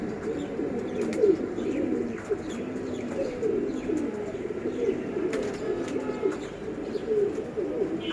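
Young pigeons, offspring of tournament racing pigeons, coo in a steady overlapping chorus of soft, rolling calls close by, with occasional light chirps.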